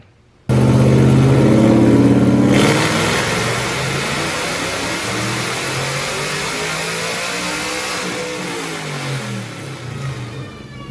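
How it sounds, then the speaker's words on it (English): A modified truck on a dyno starts abruptly into a loud, sustained engine roar that climbs in pitch through a full pull, then holds a steady heavy drone with a whirring rise near the end. "I finally got the truck onto a dyno, and I'm thrilled with the results"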